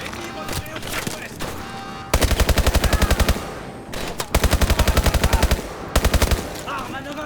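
Bursts of rapid automatic gunfire in Call of Duty Advanced Warfare, several loud sustained strings of evenly spaced shots separated by short pauses, with game voices and battle noise underneath.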